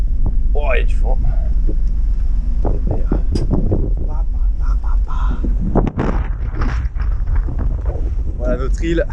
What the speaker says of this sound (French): Oh, il y a du vent.